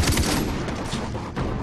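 Rapid bursts of gunfire from the video game Far Cry 3 crackle loudly and almost without a break for a moment of combat.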